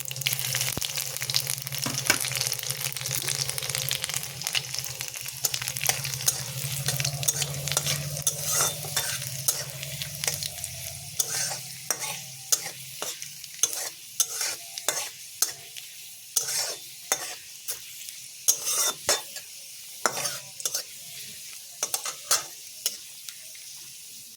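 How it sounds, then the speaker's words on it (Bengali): Tempering of dried red chilies, a bay leaf, black cumin and chopped garlic frying in hot oil, a dense crackling sizzle that thins into sparse pops and spatula scrapes toward the end, close and with no talking. "একটা তেজপাতা, কালো জিরে, কিছুটা রসুন কুচি।"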